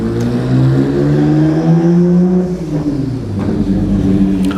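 HKS Nissan Skyline R32 race car on track at Buttonwillow, a loud close engine drone with rising and falling harmonics as it revs and shifts, no speech.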